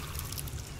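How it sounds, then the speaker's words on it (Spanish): Water being drunk or poured from a source in the survival video game The Forest, a steady soft splashing hiss, faint and continuous with no voices. "Voy a tomar agua acá porque no tenemos dónde tomar agua"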